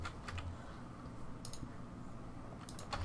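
Keystrokes on a computer keyboard while working in Maya 2012, a few quick clicks in small bursts, quiet and close, with no one speaking.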